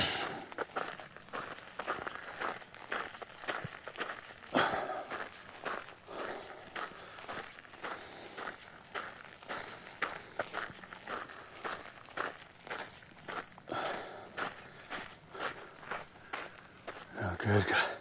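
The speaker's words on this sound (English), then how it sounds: "I can hear her footsteps behind me." Footsteps crunch steadily along a hiking trail in an even walking rhythm, fairly close, while people talk over them throughout.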